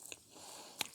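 A single crisp crunch comes from biting into fried pumpkin flower. It is a faint, brief bite heard up close against a quiet background, with no speech.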